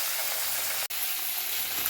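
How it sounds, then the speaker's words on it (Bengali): Bhola fish frying in hot oil, a steady close broadband sizzle with a very brief dropout near the middle, no voices. "বাকি মাছগুলো ভেজে নিচ্ছি"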